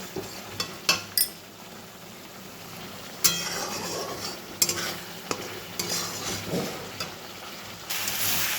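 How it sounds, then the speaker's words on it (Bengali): Masala for Bengali-style ghughni stir-fried in oil in a pan, with a soft sizzle under intermittent spoon clinks and scrapes against the metal, close by and without voices. "দেখুন এই মশলাটা ভালোভাবে কষাতে হবে, যতক্ষণ না তেল ছেড়ে আসছে ওটাকে ভালোভাবে কষিয়ে নেব"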